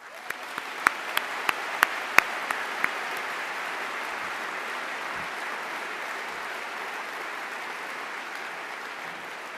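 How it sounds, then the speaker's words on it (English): An audience at a debate applauds the speakers and moderator in a sustained, fairly distant wash of clapping, with a few sharper claps standing out at the start. "I would like to thank our two speakers and our moderator with another round of applause."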